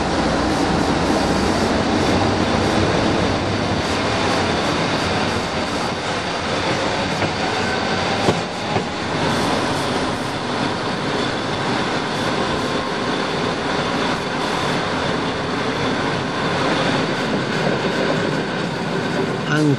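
The Iveco diesel engine of an ALn 668 railcar drones steadily for the whole stretch, a dense, constant rumble mixed with rolling wheel and track noise from on board.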